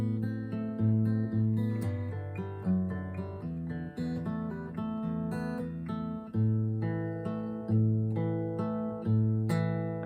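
Fingerpicked guitar fill, a run of clear plucked notes and ringing bass over a steady rhythm, played close and alone with no talking.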